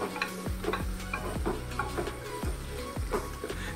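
Vegetables including carrot being stirred in a pan for soyabean biryani, with repeated spoon scrapes and knocks against the metal over a steady low sizzle, close and moderately loud, no talking.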